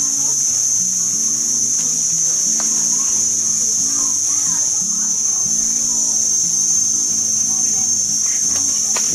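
Loud, steady insect buzzing of summer cicadas fills the whole stretch as a constant high drone, with faint voices and background chatter underneath.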